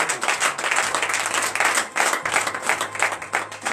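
A congregation at a morning prayer service in Benin claps and acclaims, with dense, energetic clapping and faint cheering voices mixed in, loud and continuous for nearly four seconds.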